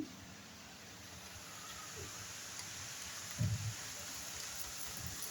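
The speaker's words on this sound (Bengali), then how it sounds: "বাইরে প্রচণ্ড বৃষ্টি শুরু হয়ে গেছে।" Continuous hiss of rain falling steadily outside, with a faint low thump partway through.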